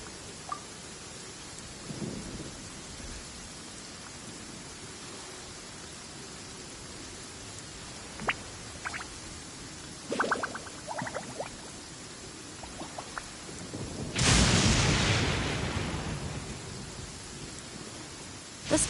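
Steady in-game rain from Genshin Impact hisses throughout, with scattered drops and ticks, building to a loud rumbling thunderclap near the end that fades slowly.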